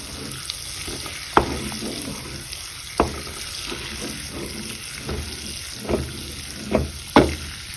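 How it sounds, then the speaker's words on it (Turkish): Tomato paste fries in melted butter and oil, giving a continuous close sizzle with intermittent scraping stir strokes against the pan, heard alone without voices. "Şöyle 1 yemek kaşığı kadar da domates salçasını kavuracağım."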